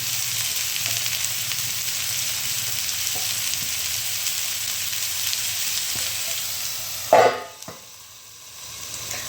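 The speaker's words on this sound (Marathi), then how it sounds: "आता यामध्ये मी आता ही घोसाळी टाकून देते गॅस कमी केलेला आहे" Ridge gourd fries with onion in a pan on low heat, a loud continuous sizzle that cuts off abruptly near the end with a clatter, then goes quiet.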